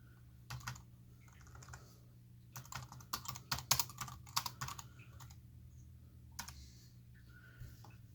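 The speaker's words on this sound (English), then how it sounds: "you can use a Bluetooth keyboard, so it pretty much turns this into, well, I guess you could almost say like a Chromebook" Bluetooth keyboard connected to an Amazon Fire HD10 tablet, typed on in quick bursts of light plastic key clicks with short pauses, close up and fairly quiet with no talking.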